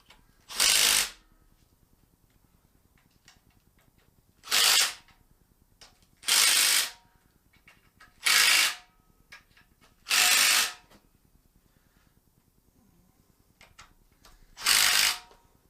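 A Milwaukee power ratchet runs in six separate short bursts, each about a second long, as it tightens bolts on a junkyard LS engine. The bursts are loud and close, with quiet pauses between them.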